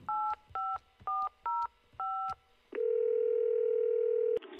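A telephone keypad dials a number with five short tone beeps in a steady pattern, then a long continuous dial tone holds for nearly two seconds before cutting off, clear and moderately quiet.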